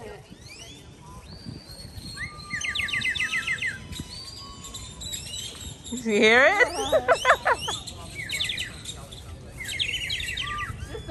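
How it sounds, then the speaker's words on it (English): Birds chirp and tweet repeatedly around a market area in Panama City, with bright clustered calls rising above steady background noise while people talk loudly through much of it. "There's so much birds here."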